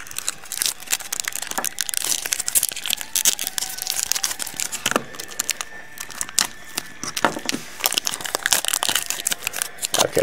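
Taped mail package being torn open, with continuous crinkling, crackling and ripping of tape and paper close by, in irregular bursts.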